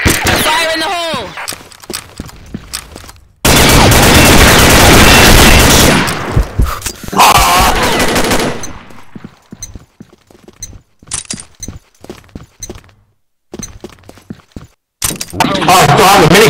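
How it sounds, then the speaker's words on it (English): Video game minigun fire comes in long, dense, loud bursts of rapid shots, broken by short pauses and scattered single shots and thuds, with voices speaking between the bursts. "Oh, I have a minigun, no?"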